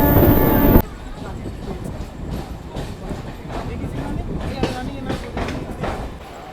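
A local train running towards Bhubaneswar rumbles along with clattering wheels and rhythmic clicks over rail joints, steady and close, after a short loud burst at the start.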